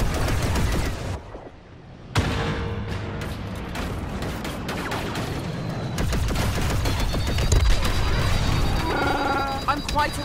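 Laser blasts from enemy starfighters in the Star Wars Battlefront II starfighter assault mode, rapid bursts of shots mixed with game effects and music, with voices speaking over the fire.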